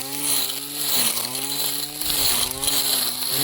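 A small handheld grass trimmer fitted with a metal cutting blade runs steadily at high speed. Its buzzing motor whine is loud and close, wavering slightly in pitch as the load changes, with no talk over it.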